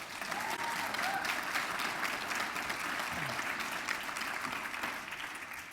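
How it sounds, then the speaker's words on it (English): An audience at a Hall of Fame induction ceremony claps steadily, a dense, fairly quiet round of applause that fills the whole stretch without talk over it. "give him a round of applause"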